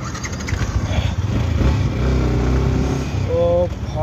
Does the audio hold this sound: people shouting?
no